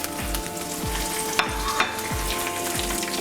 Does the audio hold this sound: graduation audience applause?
no